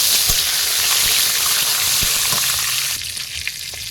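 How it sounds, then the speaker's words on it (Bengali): Dried red chillies, whole garam masala, cumin and black peppercorns fry in hot oil for a chicken curry, giving a loud, steady sizzle with a few soft taps. The sizzle eases a little toward the end. "সব গোটা মশলাগুলো এর মধ্যে দিয়ে দেবো"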